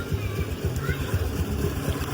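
People wade along a road covered by floodwater from the Saraswati river, with continuous sloshing and splashing from their steps under nearby talk.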